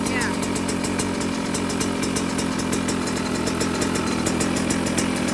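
A 2024 Yamaha YZ125 two-stroke dirt bike engine with jetting issues idles close by with a steady, loud chugging and rapid ticking, running low and even throughout as the idle is set down.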